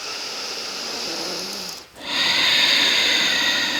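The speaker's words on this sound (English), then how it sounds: "Just breathing nice and deep in and out through our nose for that victorious breath" Slow, deep ujjayi breathing through the nose during a gentle yoga session, a close, steady airy rush on the inhale, a brief pause, then a louder hissing exhale with no talking.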